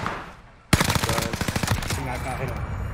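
Rapid automatic gunfire from a video game shootout bursts in suddenly after a quiet moment, a close, loud stream of shots lasting over a second before tailing off.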